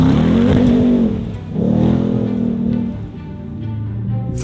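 A Ram 1500 TRX truck with a 702-horsepower engine revs and accelerates in Baja mode, a loud close growl that surges, dips and climbs again in two strong pulls.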